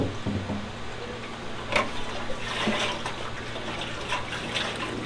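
Water runs into a rusty Honda Goldwing cafe racer motorcycle gas tank, a continuous gurgling, trickling flow close by with occasional splashes and knocks.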